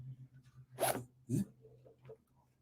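Two quick zipper-like rasps, mimicked by a galah cockatoo, close and distinct, followed by a few softer chirps over a quiet hum.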